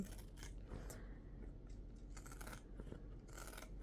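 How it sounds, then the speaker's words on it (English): Pinking scissors snip through the fabric seam allowance of a freshly sewn bag, a few close, crisp crunching cuts in quick bursts with short pauses, heard alone in a quiet room. "You can trim off your extra seam allowance if you'd like."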